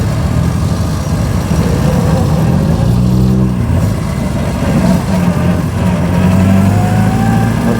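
A 1924 Austin Seven engine runs loud and close, a low rough idle with choke that revs up in uneven bursts and then settles into a steady drone as the car pulls away.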